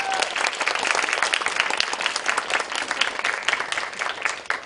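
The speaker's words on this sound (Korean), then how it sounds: "박수 치려면 치고 말려면 마십시오." Theatre audience applauding during a closing-night stage play performance: dense, steady clapping that fills the room at full strength for several seconds, then cuts off abruptly.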